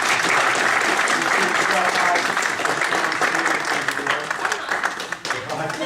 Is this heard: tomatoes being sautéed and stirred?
no